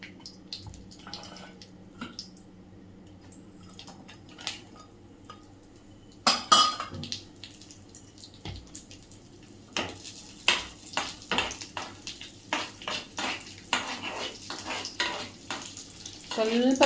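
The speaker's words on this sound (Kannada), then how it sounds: "ಇವಾಗ 2 ಸ್ಪೂನ್ ತುಪ್ಪ ಹಾಕ್ಕೊಳ್ತಾ ಇದ್ದೀನಿ ಡ್ರೈ ಫ್ರೂಟ್ಸ್ ರೋಸ್ಟ್ ಮಾಡೋಕ್ಕೆ." Dry fruits roasting in two spoons of ghee in a pan for pumpkin payasam, a soft sizzle with intermittent spoon scrapes and clinks against the pan, growing busier toward the end, with no talking.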